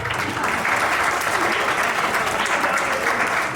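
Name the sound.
audience applause for the poet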